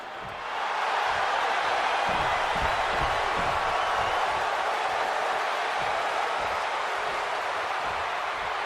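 A capacity arena crowd cheers in WWE 2K26 for a Seth Rollins versus CM Punk match: a loud, sustained roar with steady energy and distant whoops.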